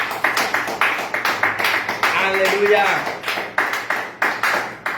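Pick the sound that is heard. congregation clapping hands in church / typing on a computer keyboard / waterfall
congregation clapping hands in church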